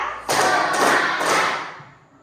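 A classroom of children claps hands in a counting game, producing three quick, loud bursts of clapping close by, the last one fading away.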